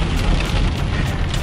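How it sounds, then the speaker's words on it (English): Steady rain falls on a cold winter day, a loud, dense, even hiss of drops pattering on surfaces, continuous and close, with no voices. "It is raining."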